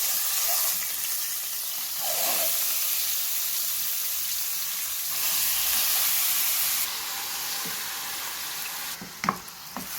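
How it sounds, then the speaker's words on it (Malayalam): Marinated chicken drops into a hot ceramic pan with fennel seeds, giving a loud, steady sizzle of frying that fades slightly midway. A few scraping stir clinks come near the end. No voices. "ഇനി നമുക്ക് ഇതിലേക്ക് ഈ മാരിനേറ്റ് ചെയ്ത് വെച്ചിരിക്കുന്ന ചിക്കൻ ഇട്ട് കൊടുക്കാം."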